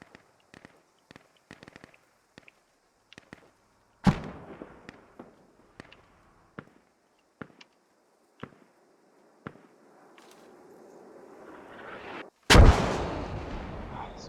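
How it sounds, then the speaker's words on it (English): Mortar artillery fire in the video game Squad: sharp, distant booms land at irregular intervals, with two loud, close blasts, one near the start and a heavier one near the end, followed by a rumbling tail. "I guess I got indirect fire."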